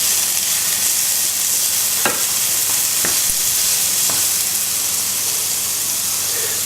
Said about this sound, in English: Just mix that all around.